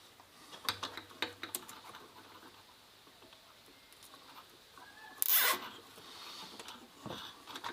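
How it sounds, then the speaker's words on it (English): A zip tie is cinched around car wiring during fuel pump and coil work on a Mazda RX8, giving quiet ratcheting clicks early on, a sharp louder zip in the middle and a faint click near the end. "So this one here, do the same thing. It's already coming over, so might as well zip tie that together like so."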